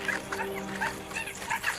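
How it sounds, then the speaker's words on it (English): African wild dogs yipping and whimpering in repeated high, thin calls as they attack a young hippo calf, steady through the short stretch over a constant background hum. "while wild dogs bite and worry at its flanks"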